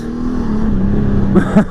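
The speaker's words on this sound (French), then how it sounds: "Oh, le bruit de ce moteur, j'ai l'impression de conduire une muscle car." A 2020 Honda Goldwing 1800 motorcycle engine runs close by with a steady low drone, then rises into brief revving surges near the end.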